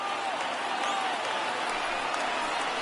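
Stadium crowd in the MLB The Show 19 baseball game rising to its feet late in a Pirates road game at Arizona, a loud sustained roar and cheering throughout, with a broadcast voice over it.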